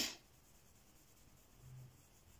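Pencil colouring lightly on paper, a faint, soft scratchy rubbing that starts with a brief sharper touch and then continues quietly.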